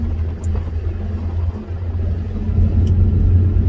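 A 25-year-old Porsche 986 Boxster with a Tiptronic automatic pulls away from a standstill, its engine giving a deep, loud rumble that swells steadily as it accelerates, close and with no voices.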